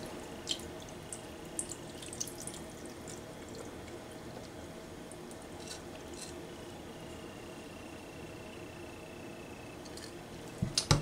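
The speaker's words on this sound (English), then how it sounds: "Carefully pour out the water." Cloudy rinse water being poured off washed Japanese rice in a pot, a soft, steady trickle and splashing at close range with a few drips, alone with no talk.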